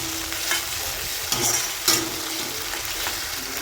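Kand (yam) chilli gets mixed with tomato ketchup in a hot pan: a continuous close sizzle with a few scraping stirs cutting through.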